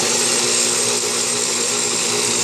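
A blender runs on its low setting, mixing a green spirulina drink, giving a steady, continuous motor whir close by that holds even for the whole stretch with no talking.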